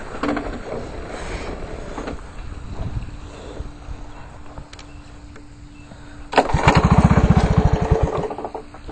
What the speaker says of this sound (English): I'll probably take the Honda for a test drive now.